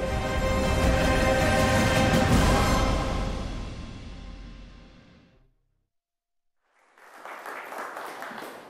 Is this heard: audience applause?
yes